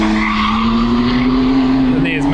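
A car slides on a race track during a Porsche 911 991.2 GTS versus Honda NSX NA1 lap-timing test, with a loud steady engine drone and sustained tire squeal throughout.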